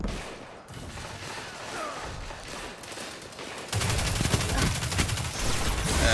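Rapid bursts from the Riskrunner submachine gun in the video game Destiny 2, a dense rattling stream of shots that grows louder and fuller in the second half over game ambience.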